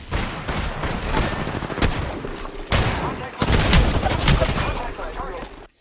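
Rapid hipfire gunshots from a G7 Scout rifle in an online shooter game, a dense burst of repeated loud cracks with short gaps, mixed with game sound effects and a voice talking over it.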